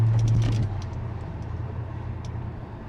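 Car driving on summer tires through winter snow in Poland, steering rack in poor condition: a steady low engine and road rumble, loudest at the start, then settling into a constant droning hum with no speech.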